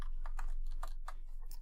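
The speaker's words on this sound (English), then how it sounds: "I'm just typing table name." Typing on a computer keyboard, a quick run of close, distinct key clicks in an irregular rhythm with no talking.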